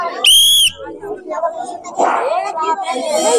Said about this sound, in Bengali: আমি হুইসেল দেবো